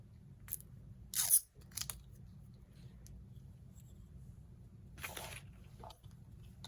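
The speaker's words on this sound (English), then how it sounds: "I'm gonna cut my my butcher paper" Scissors snip through butcher paper at a crafting table while preparing acrylic keychains for sublimation, giving a few short, crisp cutting bursts separated by quiet gaps over a low background hum.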